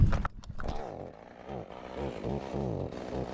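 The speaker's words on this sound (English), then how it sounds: "as soon as that chainsaw comes out" A chainsaw idles and revs with a steady buzzing drone, fairly close, after a few sharp knocks at the start.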